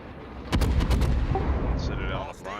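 A salvo from the main guns of the cruiser Des Moines in World of Warships booms out as a tight cluster of loud, close cracks. A rumbling tail follows, and faint game sounds trail after it.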